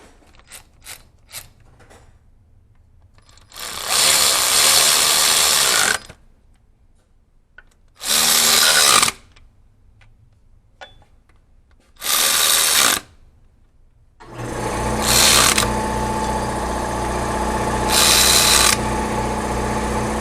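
Water pump bolts on a 2004 Toyota Tacoma 2WD are driven down in several loud, whirring bursts of a few seconds each, separated by quiet gaps, with a longer run near the end.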